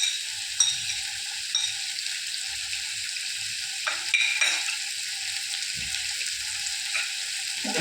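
Tomatoes and garlic sautéing in a pan give a steady bright sizzle throughout, with a few soft scrapes and stirs of a utensil breaking in at irregular moments.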